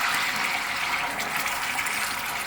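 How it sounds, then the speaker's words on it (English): A steady stream of water poured into a pan of tomato-sauce pasta, a continuous splashing gush at close range with no talking. "I'm gonna add some water."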